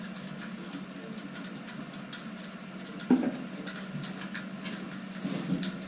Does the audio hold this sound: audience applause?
no